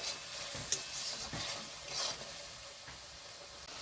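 Spice paste stirred and fried in a pan gives a soft, continuous sizzle, broken by occasional scrapes of a spoon, with no voices.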